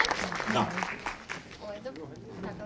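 Audience applause at a regional Ukrainian business forum as a speaker is called up, moderate clapping that swells then fades, mixed with room noise and indistinct voices.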